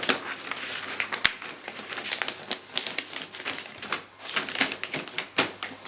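Wrapping paper folded around a Christmas present, a run of sharp crisp crinkles and taps in an irregular rhythm, close and fairly quiet, with no talking.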